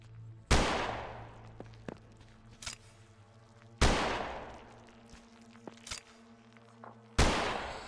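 Gunfire in a video game: three loud, sharp shots spaced a few seconds apart, each with a long decaying tail, plus fainter clicks and thuds between them over a low steady hum.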